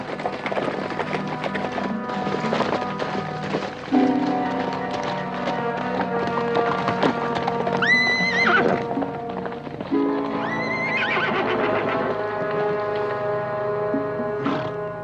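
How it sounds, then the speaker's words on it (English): Hooves clatter in a busy rhythm during a horse race under music-like tones, with a couple of high whinnying neighs breaking through midway. "Was it you riding the horse?"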